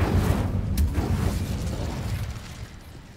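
Incendio fire spell cast in the Hogwarts Legacy video game: a loud, dense whooshing burst of flame at the start that roars and slowly fades over a few seconds, with no talk.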